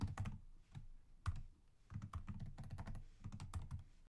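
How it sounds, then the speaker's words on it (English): Code is typed on a computer keyboard in quick, close clusters of crisp key clicks, separated by short pauses, with no speech. "So I'm going to type this out"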